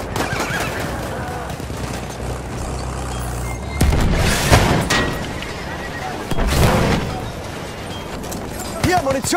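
A grenade explodes in the Battlefield 1 video game: a low engine rumble gives way to two heavy, close blasts several seconds apart amid battlefield noise, with voices shouting in between.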